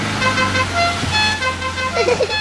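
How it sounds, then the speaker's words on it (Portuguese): A van horn honks out the melody of La Cucaracha, a short jaunty tune of rising and falling notes, loud and close, over a low engine rumble. "ele toca a buzina da van, tocando a música La Cucaracha"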